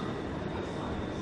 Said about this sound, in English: Another brief view of this train, as I said, which is all sleeping and dining and lounge cars